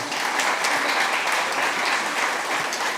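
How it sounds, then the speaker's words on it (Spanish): Steady, dense audience applause at an education event on intercultural leadership in Ecuador, honoring an institution; a large crowd claps continuously and evenly throughout, fairly loud with no break. "así que pido un aplauso también para el INEPE por ese"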